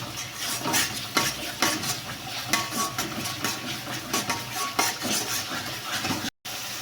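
Rohu fish pieces stirred in mustard paste in an oiled pan, a steady sizzle with repeated scraping and clattering strokes of a spatula, close and moderately loud.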